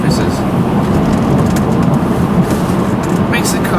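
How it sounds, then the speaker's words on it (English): Steady, loud tire roar and road rumble inside a 2012 Mazda 3 driving over changing road surfaces, a continuous broadband wash with no pauses. "you can also hear a lot of tire noise, especially as you change road surfaces"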